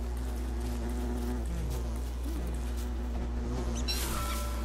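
Bees from the video game Don't Starve give off a continuous, close insect buzz with a low drone underneath, alongside faint game ambience and no speech.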